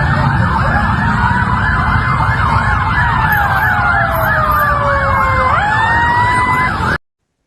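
Ambulance sirens wail as emergency vehicles arrive at the Cimahi police headquarters in West Java before dawn: loud, close, overlapping sirens, one rapidly warbling and another sweeping steadily, with no voices.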